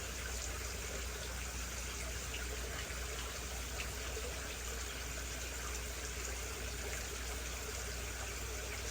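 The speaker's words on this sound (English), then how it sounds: "It will spill the excess water from this pond." Excess water spills steadily out of a simple overflow on a backyard crayfish pond, a faint, continuous trickling and gushing rush.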